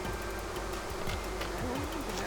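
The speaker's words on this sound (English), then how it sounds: "Woo, that's a lot of bees." Honey bees swarming around a garden beehive, a dense steady buzzing drone with individual bees zipping past close by, continuous and fairly loud.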